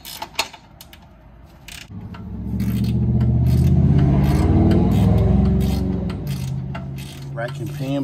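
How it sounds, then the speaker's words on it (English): A ratcheting 18mm wrench tightens rack and pinion bolts on a 2005-2008 Pontiac Grand Prix GXP, giving scattered clicks and metallic taps against a loud low mechanical drone that swells in the middle and then eases off. "I'm gonna go get a ratcheting 18mm wrench and then a regular 18mm and tighten both of those down"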